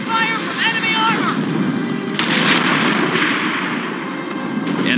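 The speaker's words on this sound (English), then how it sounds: "Taking fire from enemy armor." Rapid gunfire and booming artillery from the strategy game Company of Heroes, loud and continuous with overlapping blasts and rattling shots, while game voices talk over the battle.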